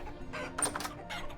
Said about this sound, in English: We have so many chickens, they're just completely out of control.